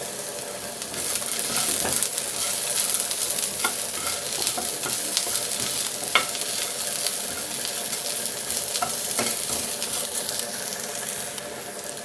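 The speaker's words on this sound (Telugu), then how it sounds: "కొంచెం పసుపు వేసుకోవాలి అలాగే కొంచెం ఉప్పు కూడా వేసి బాగా కలుపుకోవాలి" Close, continuous scraping and clinking of a spoon stirring turmeric and salt into a pan over a steady sizzle, with occasional sharper knocks against the metal.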